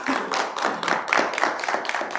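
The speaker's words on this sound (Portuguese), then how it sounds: "Então aplaude Jesus Cristo." A short burst of clapping from a group, brisk and uneven, rising and falling over a couple of seconds with no talking.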